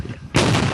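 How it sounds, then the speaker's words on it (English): A single sharp explosion bursts out abruptly after a moment of low background hum, then sustains a loud, broad roar that decays slowly. "The sound of explosions is followed by cheers from kids from ages 12 to 16."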